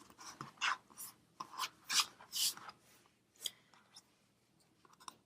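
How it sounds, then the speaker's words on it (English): A Tappit cutter is slid back and forth over rolled-out sugar paste, giving soft, close scraping and rubbing strokes in irregular bursts with quiet gaps between them and no speech. "roll out the paste, lay the Tappit across, and I slide it backwards and forwards."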